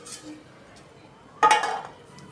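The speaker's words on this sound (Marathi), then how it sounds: "थोडासा टॅप केला की तो निघून येतो." A metal cake tin holding a mango cake gets a single firm tap to loosen it, a short resonant metallic knock that rings briefly after a quiet start.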